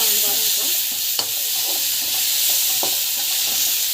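Tomato sautéing in oil in a pan with rock salt, heard as a loud, continuous bright hiss of frying with a few faint utensil taps underneath, close and with no speech.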